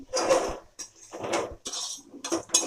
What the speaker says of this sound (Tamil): போட்டு அடி பிடிக்காத அளவுக்கு கிண்டி விடுறோம்.